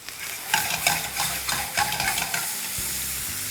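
Minced pork stir-fried with black olives, oyster sauce, light soy sauce and sugar in a pan, heard as close sizzling broken by repeated scraping and clattering stirring strokes, with no voices.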